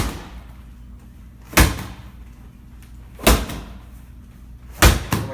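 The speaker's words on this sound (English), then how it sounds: "We're going to start out with the slams. High up overhead, knock it down." A medicine ball is slammed onto the floor during a workout, three heavy, booming thuds spaced about a second and a half apart over a quiet room background.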